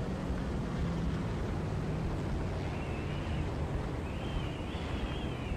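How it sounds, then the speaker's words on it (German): Boat engines drone in the World War II shooter game Post Scriptum, a continuous loud low roar with wind-like wash and faint rising whines, no talk over it. "Die Motoren sind ziemlich laut."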